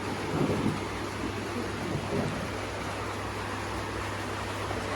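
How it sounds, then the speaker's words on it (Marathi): Rain arriving over a home: a steady, fairly loud hiss of rainfall with a low rumble underneath, continuous for the whole stretch and no voices. "चला चला पाऊस आला पाऊस आला पाऊस आला"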